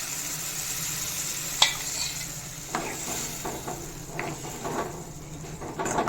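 A spoon scrapes through a pan several times as tamarind water is stirred into frying chilli masala, with an irregular scraping and clinking over a steady low sizzle and no voices.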